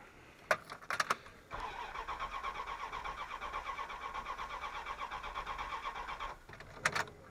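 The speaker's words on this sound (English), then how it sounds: "go inside, start the truck, and let it run" A 1994 Dodge Dakota's 5.2 V8 engine cranks and fires, then idles with a steady pulsing rumble, with a few clicks and clunks before it starts and after it stops.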